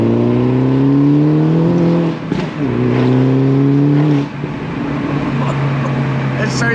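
A modified Mini Cooper S John Cooper Works engine revs hard with the windows down, climbing through the gears in two strong pulls with a brief dip between, then settling into a lower steady drone.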